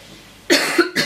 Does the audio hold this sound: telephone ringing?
no